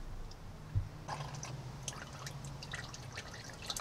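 Used oil drains from a 5.0 engine in a first-generation 2011–2014 Ford F-150 during an oil change, a soft, steady trickle with scattered drips, faint and close, with no voices.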